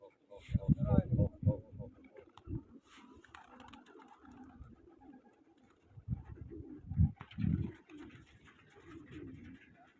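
Soft pigeon coos come in a few low bursts, mixed with rustling and clicks, with quiet background noise between them.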